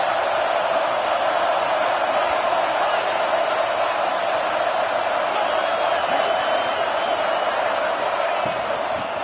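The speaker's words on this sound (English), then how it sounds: "Big 3rd down as the crowd gets behind this defense." Football stadium crowd at a tight game cheering for the defense on a big third down, a dense, steady roar that holds at full level throughout with no breaks.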